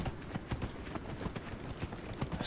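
Hooves of a stag-like elk mount clip-clop in Dragon Age: Inquisition, a brisk steady rhythm of close thuds continuing through the whole moment with no talk.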